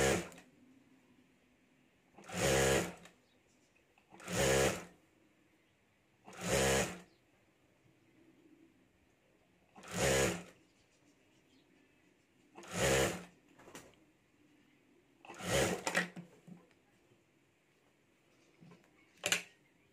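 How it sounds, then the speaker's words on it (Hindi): A sewing machine stitches a border onto a potli bag in short bursts, about eight separate runs of rapid mechanical whirring spaced a couple of seconds apart, close and clear with quiet pauses between. "और अब यहाँ हमें सिलाई कर देनी है।"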